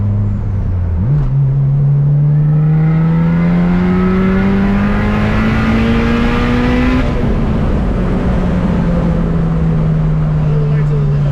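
A B18C turbocharged Honda Integra engine revs on the street, its tone climbing steadily to the rev limiter and then easing down, loud and close, with a voice talking over it.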